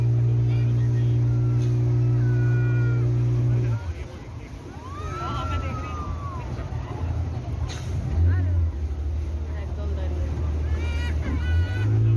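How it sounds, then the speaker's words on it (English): A boat engine drones steadily and loudly on a ride off Calangute Beach, Goa, then drops away to a rougher rumble of wind and water before revving up again. "here we end our boat ride"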